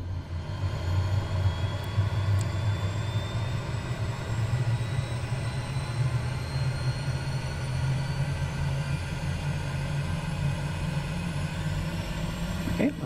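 Pilatus Porter turboprop engine at low idle in a flight simulator, a steady low droning hum with a faint high whine, constant and unchanging throughout.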